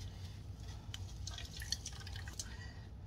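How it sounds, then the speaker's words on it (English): Water drips and trickles from a squeezed, freshly rinsed item in a home kitchen, a few soft irregular drops and splashes close by over a faint steady background hum. "You can see all that water that comes out of those."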